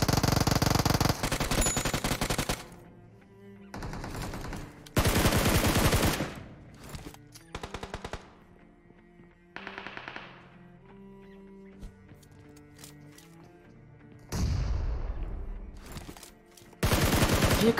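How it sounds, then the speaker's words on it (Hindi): Bursts of gunfire from a mobile battle-royale shooter game play out across the stretch, loud dense volleys alternating with quieter gaps of music-like tones and game effects; no talking. "इतनी फायरिंग साउंड आ रही है"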